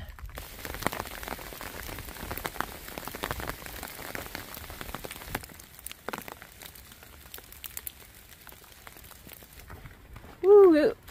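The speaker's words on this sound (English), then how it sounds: "It was raining for a good minute there, and had to keep my umbrella out" Rain patters steadily on a hiking trail along the Appalachian Trail, a dense crackling hiss of drops on surfaces and an umbrella that runs throughout, easing slightly midway before a short burst of voice near the end.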